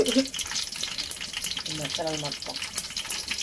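Green chilies and bay leaf fry in not-yet-hot oil for prawn biryani, giving a close, steady crackling sizzle with stirring noises and a brief voice partway through.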